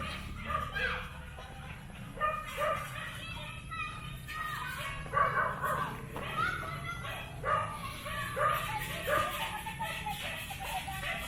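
Dogs bark repeatedly nearby as children play with them next door in the Philippines, a steady run of yips and barks mixed with children's voices.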